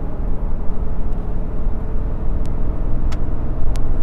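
A steady, loud engine drone with a low rumbling chatter from a diesel truck's exhaust brake on auto mode holding back, with a few faint clicks over it.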